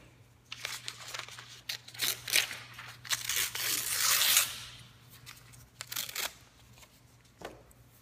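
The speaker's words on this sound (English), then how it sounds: "we're going to tear the paper in half" A sheet of paper is torn in half by hand, with several short ripping bursts and a longer drawn-out tear in the middle. Close and crisp over a faint steady hum.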